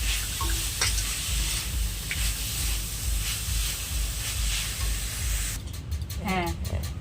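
Coconut being stirred and fried in a pan for narkel naru, a Bengali coconut sweet, with steady broad sizzling and scraping throughout and a burst of sharper clattering strokes near the end.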